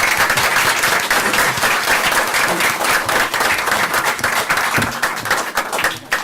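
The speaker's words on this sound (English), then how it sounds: "We can have one more round of applause for the students." An audience at a school board meeting applauds students, giving sustained, dense clapping that carries loud and continuous throughout.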